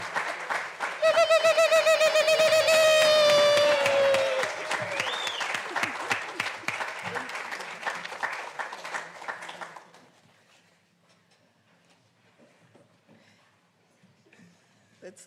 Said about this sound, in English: May we give her a round of applause, ladies and gentlemen, as she comes to you.